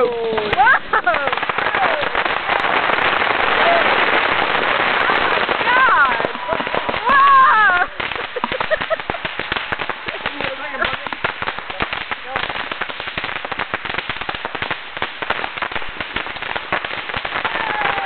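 Fireworks from a 2011 backyard display go off in crackling bursts of rapid pops, loud and close, with people exclaiming over them now and then.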